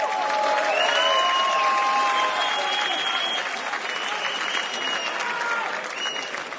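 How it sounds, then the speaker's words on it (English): A crowd at a heavyweight championship fight in the Ares league applauds and cheers the new champion. The applause is loud and continuous, with a mixed roar of voices, and it eases slightly toward the end. "Slim Trabelsi, on peut l'applaudir encore une fois"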